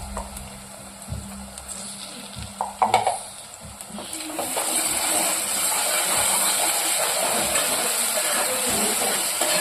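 Onions fry in hot oil with ginger garlic paste for a vankaya curry, starting with a few utensil stirs and clinks, then building to a loud, steady sizzle that fills the rest.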